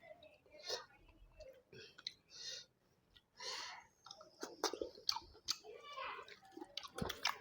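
Close, wet chewing and mouth sounds of eating potato in short bursts, with soft murmured speech between bites.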